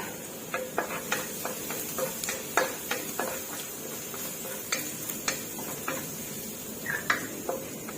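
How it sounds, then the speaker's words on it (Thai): Finely minced garlic sizzles quietly in a pan while a spatula clicks and taps against the metal in frequent short strokes during stirring. "ตามด้วยกระเทียมสับละเอียด ผัดให้เหลืองหอมค่ะ"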